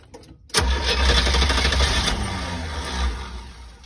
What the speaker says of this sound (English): And we're going to start up the engine.